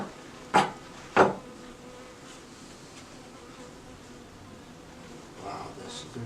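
Many honey bees drone in a crowded Alaskan rainforest hive during a first inspection, a low steady buzz broken early by two sharp knocks of a wooden frame, with a faint voice near the end.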